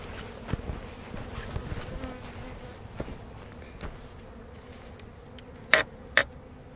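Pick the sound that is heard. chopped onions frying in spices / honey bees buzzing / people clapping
honey bees buzzing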